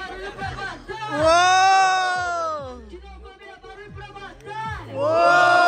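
A crowd at a Brazilian freestyle rap battle cheers and shouts in loud, swelling bursts, with whooping voices rising near the start and surging again at the end.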